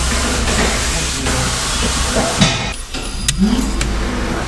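A wheel balancing machine in a tyre workshop spins and balances tyres for a VW T6 van, giving a steady loud mechanical hum and whir. Brief clanks and squeaks sit near the end, with no talk.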